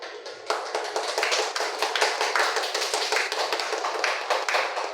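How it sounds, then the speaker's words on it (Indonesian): A classroom group claps for a presenting team, a dense, steady patter of many hands lasting several seconds with no speech over it. "Beri aplaus dulu untuk kelompok 3"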